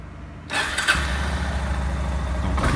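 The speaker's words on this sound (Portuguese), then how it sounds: "Deixar só esquentar um pouquinho aqui pra gente não sair aqui com o motor frio" A car engine cranks and fires after a moment of quiet, then settles into a steady close idle as it warms up, with a short burst of higher noise near the end.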